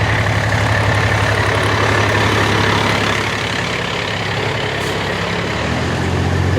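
A Bugatti Vision Gran Turismo's engine rumbles loudly and steadily close by, a deep continuous idle that eases slightly halfway through, with no talk over it.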